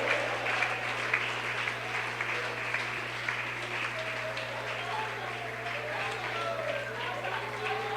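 A church congregation claps in a steady, dense wash of applause during a Spanish-language worship service, with a voice talking over it and a low steady hum underneath.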